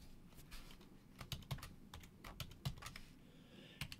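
Quick, irregular keystrokes on a computer keyboard while a ham radio call sign is entered during Winlink account setup, close and fairly quiet, with no talking.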